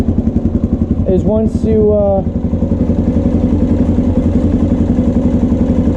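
A Honda XR400R single-cylinder dirt bike with someone's mods and bigger carburetor jets idles with a loud, even thumping beat, close up, while someone talks briefly over it.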